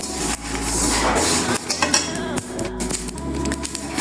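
Spice paste for olive pickle frying over high heat in a pan, a steady dense sizzle with intermittent metallic scraping and clinks of utensils against the pan.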